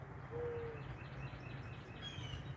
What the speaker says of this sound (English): I'm enjoying the sounds of these birds, the wind blowing.